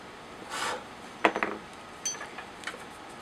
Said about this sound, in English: we're going to scrape some of this away